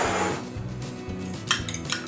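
Eggs being whisked with a fork in a bowl for a chocolate dessert, a quick run of light clinking and tapping strokes, soft and close, with a few brighter metallic ticks near the end.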